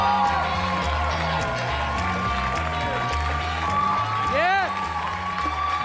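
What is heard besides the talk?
comedy club audience applauding a comedian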